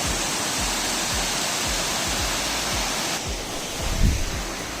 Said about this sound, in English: So finally reached near Chamadka Falls.